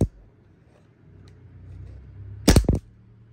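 A Cybergun WE Desert Eagle .50AE gas blowback airsoft pistol fires a quick pair of sharp, loud cracks close by, each with a clacking slide snap, after a quiet stretch of low background hum.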